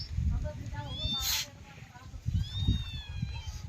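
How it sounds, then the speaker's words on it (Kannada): A kitten gives a few short, high meows, rising and falling, with low rustling and handling noise underneath. "ನಮ್ಮ ಬೆಕ್ಕಿನ ಮರಿ ಒದರಾತಾವ"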